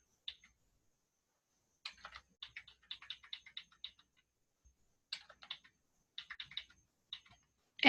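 Computer keyboard typing in short bursts of close, crisp key clicks separated by pauses, faint and alone in a quiet room.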